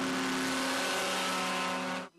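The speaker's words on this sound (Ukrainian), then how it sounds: "Першим до постраждалого мчить поліцейський катер на повітряній подушці" A police hovercraft races across the Dnipro during a rescue drill, its engine giving a loud, steady droning roar with a strong tonal hum that cuts off abruptly at the end.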